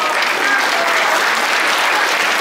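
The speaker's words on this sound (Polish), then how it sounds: "Oklaski. Oklaski, oczywiście." An audience at a Polish religious song festival in Chicago claps steadily, a dense, even wash of applause from a full hall that keeps going without a break.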